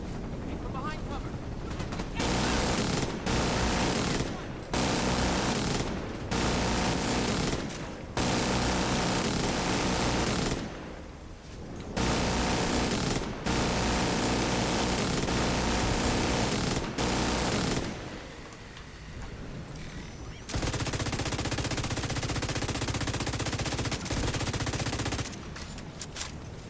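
A minigun fires in The Division 2 in long, loud sustained bursts separated by short pauses, over a steady low battle rumble.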